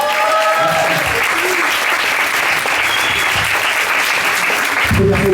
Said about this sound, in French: Les applaudissements pour Quentin, s'il vous plaît.